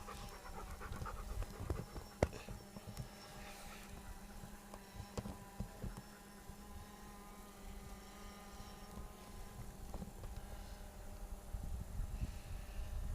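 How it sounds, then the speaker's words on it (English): A dog pants quietly and rhythmically outdoors, with faint wind and a distant mechanical hum in the background and no speech. "Dog."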